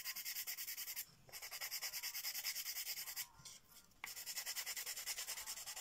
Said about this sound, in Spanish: Su lija y van a lijar.